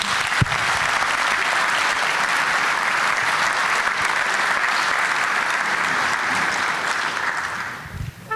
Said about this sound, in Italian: Vogliamo fare un applauso iniziale?